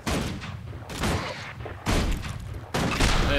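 Rapid volleys of shooting in Guild Wars 2, four dense bursts of loud gunfire that start abruptly and carry on close and constant, with no talk.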